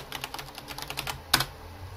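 Rapid keystrokes on a computer keyboard entering a chat command, a quick run of close, crisp clicks ending in one louder press, likely the enter key.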